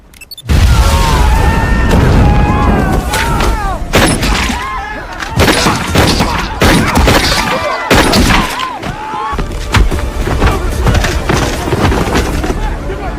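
A remote-detonated car bomb explosion as a movie sound effect: a loud booming blast followed by repeated heavy impacts, crashing debris and gunfire-like bursts, dense and close, with speech mixed over the chaos.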